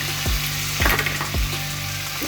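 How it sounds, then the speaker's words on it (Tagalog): Hot cooking oil sizzles steadily in a pan while a cook prepares kare-kare and sweet and sour lapu-lapu, with a few sharper spits and crackles bursting out over the continuous frying hiss. "Ngayon, pahihingitin ko itong mantika"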